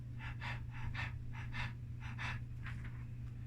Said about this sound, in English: when you're feeling stressed and anxious, your breathing tends to get shallow